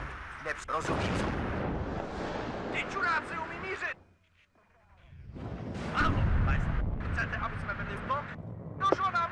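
Artillery fire in the WARNO wargame, heavy booming blasts and rumbling impacts filling the scene, with a brief lull midway before the barrage resumes, while a voice talks over it.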